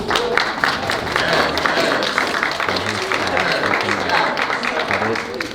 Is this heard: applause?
yes